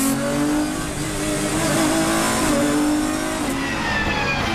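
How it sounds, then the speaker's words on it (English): A race car's engine revs and drops through the gears braking into a packed right-hand hairpin at the Red Bull Ring, a loud, close, continuous roar with shifting pitch and no talking. "listen, he's going down the gears"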